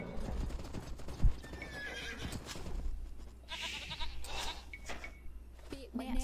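Horse hooves clip-clop and a horse neighs in a multiplayer video game match, the hoofbeats rapid and close with a sharp whinny rising midway, mixed with other game sounds.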